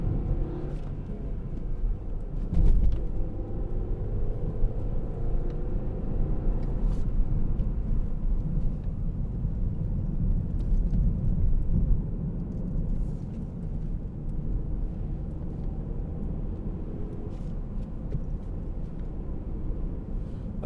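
A 2016 Volvo V60 2.0 T4 Business Edition drives on the road at speed, giving a steady, low engine and road drone heard from inside the cabin, with occasional faint bumps.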